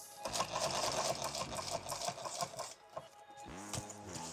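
A sewing machine stitches red thread through a six-magazine pistol pack, a steady rapid mechanical whir with rhythmic pulsing that runs continuously and fairly faintly throughout.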